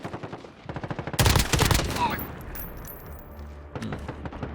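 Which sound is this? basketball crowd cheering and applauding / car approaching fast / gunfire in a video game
gunfire in a video game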